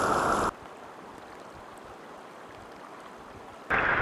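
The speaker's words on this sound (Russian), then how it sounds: "Первый брод в нашем походе. Переходим Мурхой." Shallow, wide river water at a ford in the Eastern Sayan mountains, a continuous broad rushing and babbling close by, with louder splashy bursts at the start and end.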